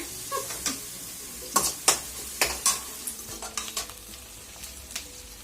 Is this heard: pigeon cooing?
no